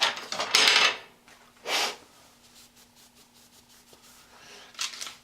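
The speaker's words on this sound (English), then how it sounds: "Open up that butter." Rustling and crinkling as a package of butter is torn open, with two strong bursts early, a quieter stretch, and a last brief crinkle near the end, heard close with no talk.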